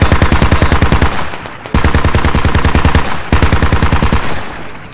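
In the video game Squad, a machine gun fires through a building in three long, rapid automatic bursts, very loud and close, each with a short pause between and no voices.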